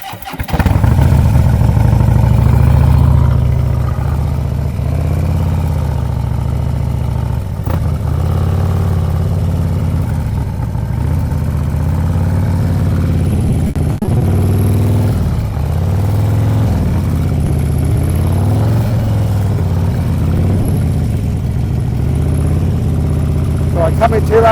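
Motorcycle engine idling and lightly revving through a slow friction-zone riding exercise, a steady low rumble with gentle rises and dips in pitch as the throttle and clutch are feathered, continuous and close, with a rider talking over it.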